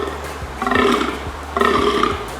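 Male European fallow deer in rut gives two deep, guttural belching groans, close and loud, separated by a short pause.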